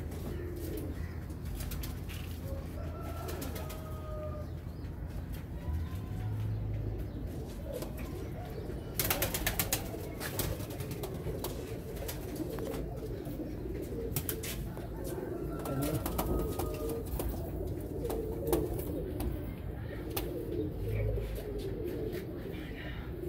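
Pigeons coo softly in a few low, brief calls spread across a quiet background, with wing flaps and faint ambient noise, and people talk in places.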